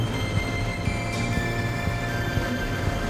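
A Rottnest Island tourist train rolls along its rails with a steady low rumble, broken by regular wheel clicks over the track joints, heard from on board with no talk.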